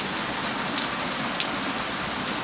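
Heavy rain pours down steadily during a storm with pea-sized hail, a dense, continuous hiss of drops striking surfaces close by, with no voices.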